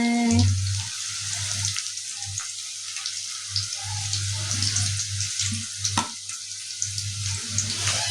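Onion pakoda deep-frying in hot oil gives a soft, steady sizzle over a low constant hum. Occasional clinks and splashes break through the sizzle, and no one speaks.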